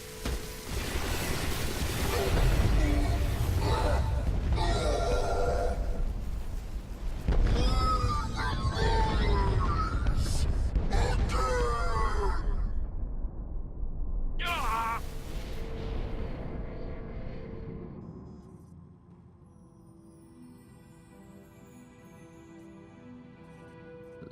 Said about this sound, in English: Ships of the Eternal Fleet, open fire!